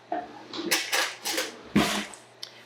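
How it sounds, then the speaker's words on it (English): Cinnamon and sugar are stirred together in a bowl, giving a few close, scattered clinks and scrapes of utensil against dish in short uneven bursts, with no talking. "Put some cinnamon and sugar together and just mix this up."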